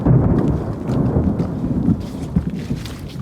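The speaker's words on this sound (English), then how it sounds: "You do not want to be out on a hiking trail in the forest and mountains when there is a storm approaching." Thunder from a storm approaching over mountain forest, a low, loud, sustained rolling rumble with rain-like hiss, heard on a hiking trail.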